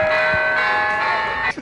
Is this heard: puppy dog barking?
no